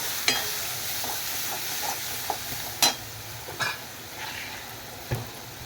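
Coriander-cumin powder, turmeric and garam masala being stirred in a frying pan for Marathi-style egg rice, a steady low sizzle broken by a few sharp scrapes and taps of the spoon against the pan.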